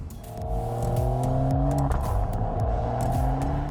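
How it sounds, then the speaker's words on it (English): A twin-turbo Mercedes-AMG E 53 Cabriolet (2023) engine revs and climbs through the gears, roof down, with a rising turbo whistle over the steady engine roar, loud and close. "With the roof down, you can hear the turbos whistling."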